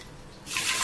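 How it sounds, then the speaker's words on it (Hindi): Water splashes into a pot while measuring it out for sugar syrup, a short bright gush that starts abruptly halfway through after near silence. "इसी कटोरी के मेजरमेंट से हम 6 कटोरी पानी डालेंगे"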